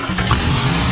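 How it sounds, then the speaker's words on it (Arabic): A Lamborghini Huracán engine under repair being cranked over, a brief, loud, steady mechanical drone lasting about a second before it cuts off abruptly. "وبعد كده دور الموتور عشان يتأكدوا ان كل حاجة بتلف براحتها."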